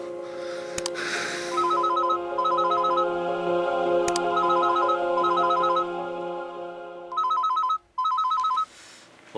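Melodic telephone ringtone chiming in repeated bursts, loud and close, playing several rings with brief pauses and cutting off near the end, alone without talk.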